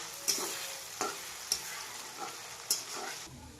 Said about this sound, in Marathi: कांदा चांगला तळून घेतला आणि त्यामध्ये आता टोमॅटो टाकलाय